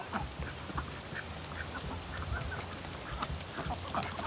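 Backyard laying ducks quack in faint, scattered calls over steady outdoor noise, some distance away, with no voices.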